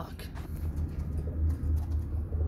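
Pakistani pigeons cooing in a loft, low repeated throaty coos pulsing in rhythm close to the microphone, with faint rustling and chirps in the background.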